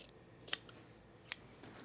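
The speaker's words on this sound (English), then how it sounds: "We'll just do it at an angle and trim down this bulk." Two crisp scissor snips trimming bulky fabric at an angle while sewing pajama bottoms, close and quiet, spaced about a second apart over a hushed room.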